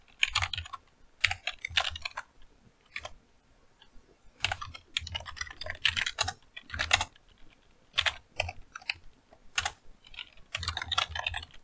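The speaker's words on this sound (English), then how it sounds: "And I'm not very good at typing." Rapid bursts of clicky keystrokes on a computer keyboard come in irregular clusters with short pauses, close and fairly quiet, with no talking.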